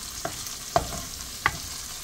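Ginger frying in a pan and stirred, a soft steady sizzle under three brief scraping knocks of a utensil against the pan, near and fairly quiet, no voices.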